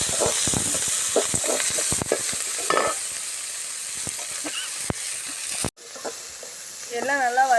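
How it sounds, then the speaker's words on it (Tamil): Manathakkali greens sauté in oil for a keerai poriyal, giving a continuous close sizzle with scattered stirring scrapes. A brief clatter comes near the end. "அதே எண்ணெயில் போட்டு வதக்கிக்கிறோம்."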